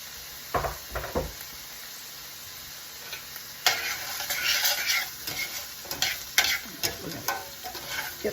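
Bite-sized leftover short ribs sizzle and fry in a pan with vegetables for a chow mein, with scraping stirs and clatters over a steady hiss, close and moderately loud.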